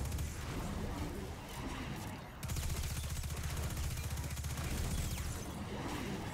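Rapid automatic gunfire rattles continuously in the shooter Destiny 2, a dense, fairly quiet burst that pauses briefly and then resumes with a steady rapid rhythm.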